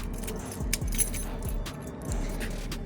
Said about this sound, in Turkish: Şimdi anahtarımızı çıkarıyoruz cebimizden.